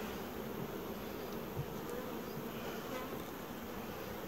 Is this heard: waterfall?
no